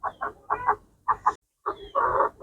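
A hen treated for a wheezing respiratory ailment clucks in a quick series of close, clear bursts with brief pauses between them, alone with no talk.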